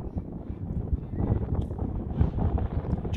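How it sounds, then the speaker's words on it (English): Steady, blustery wind on Sale Fell in the Lake District buffets the microphone with low rumbling gusts, continuous throughout. "It's getting windy now."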